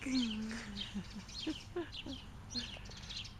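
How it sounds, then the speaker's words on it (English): Several small birds chirp and tweet in short, scattered calls, fairly faint, with a soft background hiss. "Lots of birds chirping."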